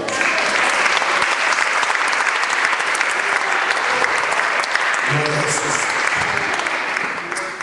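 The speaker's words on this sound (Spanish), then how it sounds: "Denle un aplauso al Señor" Congregation in a church clapping together in sustained, dense applause that holds steady throughout at close, loud level, with a few voices calling out over it toward the end.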